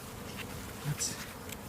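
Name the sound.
honey bees buzzing in hive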